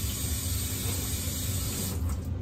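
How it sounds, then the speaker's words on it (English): Vintage kitchenware being rinsed under a running kitchen tap, with a steady, continuous rush of water and a brief clatter near the end as the item shifts beneath the stream. "give it a quick rinse"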